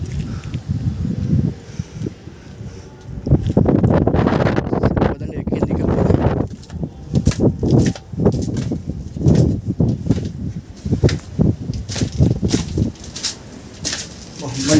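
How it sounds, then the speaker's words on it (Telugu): Strong wind buffets the microphone on the Bhongir Fort hilltop in heavy, uneven rumbling gusts, with voices talking beneath the roar. "మంచి గాలి, మస్తు వస్తుంది గాలి"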